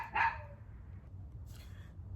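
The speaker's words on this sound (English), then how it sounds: "The moment I stop talking, they stop barking." Dogs bark from somewhere off in a residential area: one clear, fairly loud bark near the start, then a fainter second one about a second later. A low background rumble continues underneath, and nobody speaks.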